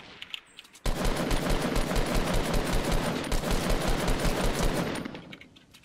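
Loud, sustained automatic gunfire rattles through a Fortnite gunfight, starting abruptly after a quiet second and running as a steady rapid stream for about four seconds before cutting off.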